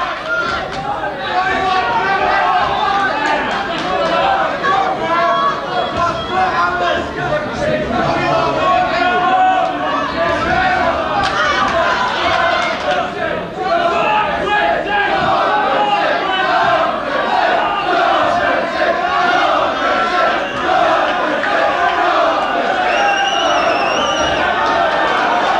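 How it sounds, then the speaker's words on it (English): A home crowd at a professional boxing bout keeps up loud, continuous cheering and shouting, a dense roar with a commentator's voice running over it. "Some encouragement from the home crowd"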